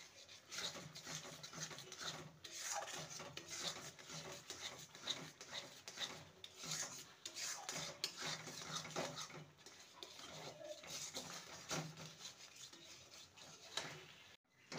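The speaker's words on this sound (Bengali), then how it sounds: "অনবরত নেড়ে যেতে হবে।" Continuous scraping and rubbing of a spoon stirring chhana mixture in a pan for nolen gur monda, a steady close rasp with rhythmic strokes running throughout, no voices.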